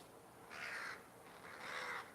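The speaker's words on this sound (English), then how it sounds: "We got some crows up there." Crows caw twice from somewhere overhead outdoors, two drawn-out harsh calls a second apart, faint and distant against steady background noise.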